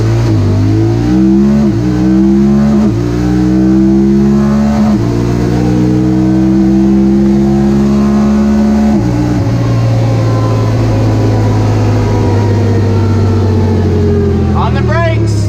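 A Honda Talon 1000R side-by-side accelerates hard in manual mode, its engine rising through several paddle shifts with each upshift marked by a sudden drop in pitch before climbing again, loud and close.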